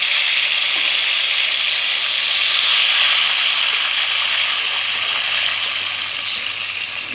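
Ground masala for an aloo anday dish sizzling in a hot oiled pan, a steady loud bright hiss of frying that holds evenly throughout with no talk over it.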